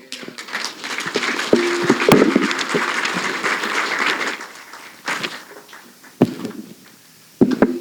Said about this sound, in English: a big hand of applause to Pastor Anojoy